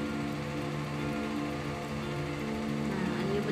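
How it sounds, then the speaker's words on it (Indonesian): Rain falls as a steady, even hiss and patter that stays constant and moderately close throughout, with a faint tonal hum beneath it and no voices. "Ketika hujan turun"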